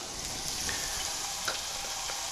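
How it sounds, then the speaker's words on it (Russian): Noodles tossed into sizzling pork and zucchini in a home wok make a steady, close frying hiss with a few faint clicks of a utensil. "и мы добавляем нашу лапшу."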